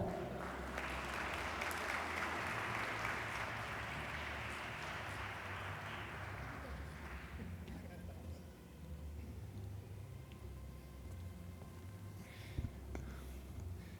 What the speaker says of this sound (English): Try to extend the applause.